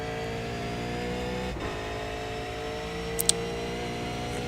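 A race car in a racing video game drones steadily down the straight, its engine a sustained harmonic hum with a brief dip midway and a couple of faint clicks, no talking.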